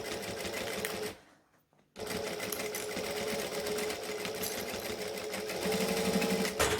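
A sewing machine stitches a unisex sling bag in fast, steady bursts, pausing briefly before running on again loud and close.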